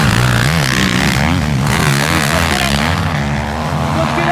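A pack of 450cc racing motorcycles screams past on a beach course, engines rising and falling in loud overlapping revving whines close by, with a commentator's voice faintly underneath.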